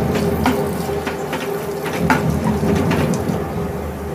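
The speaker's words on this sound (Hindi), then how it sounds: "दो तीन मिनट प्याज को फ्राई कर लेंगे" Onions fry in hot oil in a pan over a medium flame, a steady close hiss and crackle with soft pops scattered through it and no talking.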